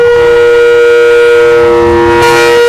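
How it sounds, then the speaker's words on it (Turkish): A very loud, sustained freight train horn blast holding one steady tone at a station, close and overpowering, cutting off near the end. "Şefim kulak patlatan korna istiyor."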